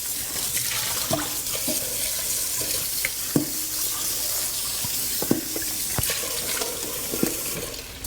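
A kitchen faucet runs while food is rinsed for a curry, giving a continuous splashing water stream broken by occasional sharp clinks and knocks from handling in the sink.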